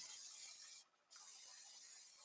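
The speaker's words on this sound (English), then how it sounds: "let me spray my pan and get my omelet on here" Cooking spray hisses from a can into a frying pan in a home kitchen before an omelet goes in: two close bursts of bright spray with a brief pause between them, quiet overall.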